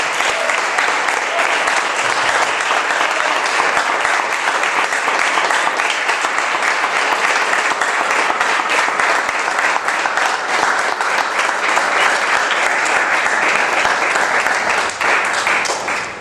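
A church congregation breaks into loud, sustained applause, a dense and even clapping that lasts throughout and tails off at the end.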